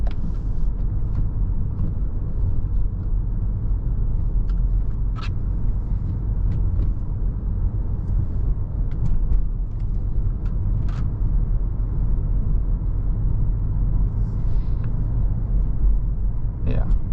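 A 2015 Mercedes ML63 AMG W166 driving on the road, its engine a steady low rumble and drone heard from inside the cabin, continuous and fairly loud, with occasional faint rattles and no talk.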